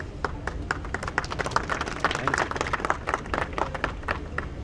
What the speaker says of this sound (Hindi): यस जी हाँ, तालियां।